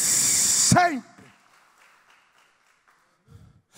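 Congregation applauding inside a church during a Portuguese-language sermon, a dense burst of clapping that cuts off abruptly, followed by near silence and a faint voice.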